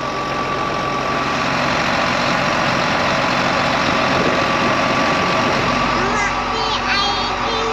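A farm tractor's engine idles steadily inside the cab, a loud continuous rumble with a few short high tones near the end, while a child and an adult talk over it.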